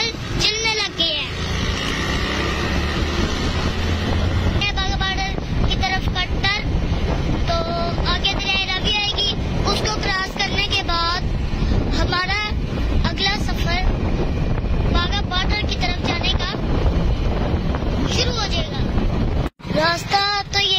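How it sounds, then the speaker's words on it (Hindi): Motorcycles ride along a road with strong wind buffeting the microphone, a constant roaring rush throughout while riders talk over it. "तो अभी हमारे मोटरसाइकिल चलने लग गए हैं।"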